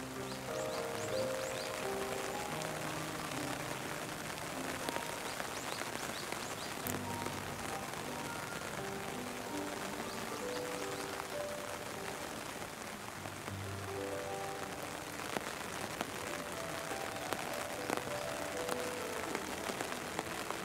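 Steady rain falls across an outdoor rose garden on a quiet, overcast day, a continuous soft patter on leaves and surfaces with scattered louder drips, heard alone without talk throughout.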